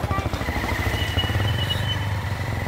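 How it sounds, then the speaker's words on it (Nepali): Motorbikes ridden in pairs along a road on New Year's night, their engines droning steadily and fairly close throughout, a low rumble that swells slightly as they go by, with no talk over it. "फेरि जोडी जोडी आएछ बाइकमा"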